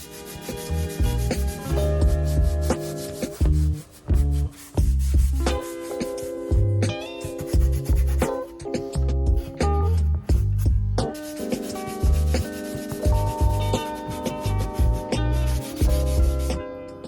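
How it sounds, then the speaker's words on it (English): A red Scotch-Brite pad scrubs the surface of car brake calipers, giving rhythmic, close, abrasive rubbing strokes in quick repeated bursts, with no one speaking. "we're going to use some red Scotch-Brite to sort of prep up the surface"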